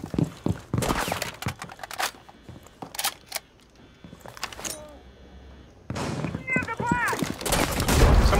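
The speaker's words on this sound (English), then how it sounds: "Crap, they're shooting at me." Gunfire in Rainbow Six Siege on the Club House map comes as repeated sharp cracks and quick bursts, close and loud, mixed with footsteps and short voice chatter.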